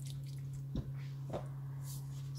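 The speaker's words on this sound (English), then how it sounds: "Mix that into the sauce." Chicken thighs stirred into a pan of sauce, with two faint wet squelching scrapes under a constant low hum.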